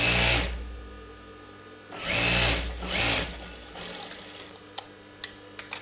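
A sewing machine stitches a blouse in two short whirring runs with a pause between, close and clear, followed by quiet handling clicks as the fabric is adjusted; no talk.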